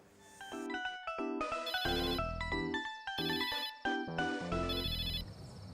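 A melodic electronic phone ringtone plays a bright, repeating tune of stepped tones, fairly loud and continuous with no talking.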